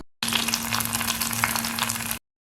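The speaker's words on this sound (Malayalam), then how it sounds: "ഇനി ഈ താളിച്ചത് വേവിച്ചു വച്ചിരിക്കുന്ന പരിപ്പിലേക്ക് ചേർത്ത് കൊടുക്കാം" Hot tempering of onion, garlic and dried chilli poured into cooked dal, giving a loud, bright sizzle that bursts in abruptly, hisses steadily for about two seconds, then cuts off.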